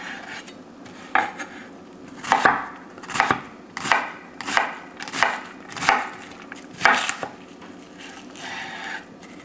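A knife chops through an onion on a cutting board in about eight separate, evenly spaced strokes, each a crisp close knock with no talking.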